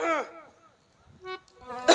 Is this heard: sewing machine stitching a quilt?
no